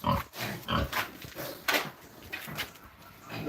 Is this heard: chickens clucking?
no